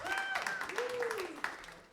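An audience at a live Halloween podcast show gives a brief burst of clapping mixed with a few voices and whoops, under a person talking.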